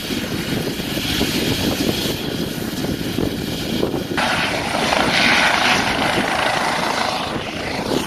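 A SMURD rescue helicopter in Medgidia, Romania, drones steadily overhead, a continuous rumbling whir of rotor and engine that holds fairly loud throughout.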